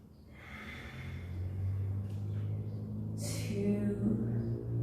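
A deep inhalation drawn in through the nose during a yoga flow, close and soft, swelling gradually over a few seconds with a faint sniffing edge and no speech over it.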